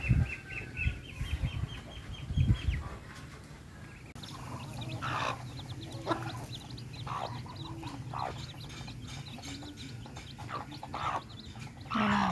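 Duck and chicken calls and clucks mix with wing flaps and rustling outdoors, irregular bursts of bird sounds over a low background rumble.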